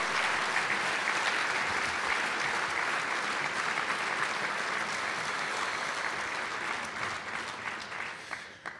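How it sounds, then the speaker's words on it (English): A dinner audience applauds the guest of honour, sustained even clapping from many hands that holds steady for most of its length and then gradually thins and fades toward the end. "a round of applause"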